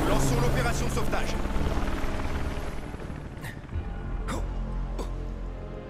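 Helicopter in the Final Fantasy 7 Remake video game, a continuous droning rotor hum beneath in-game voices and sound effects, loud and sustained throughout.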